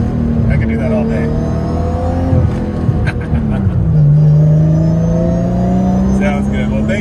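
Close, loud engine of a Nissan R32 GTR fitted with straight-cut gears, its gear whine sweeping up, dropping around a shift, then climbing again under throttle as someone talks.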